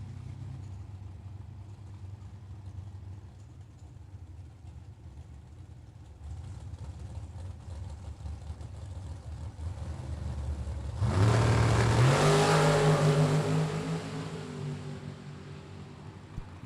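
Big block Chevrolet dragster engines at a drag racing event, a low steady idle that builds and then swells into a loud rev near the end, with broadband roar from the crowded staging lanes.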